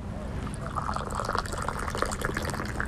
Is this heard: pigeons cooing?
no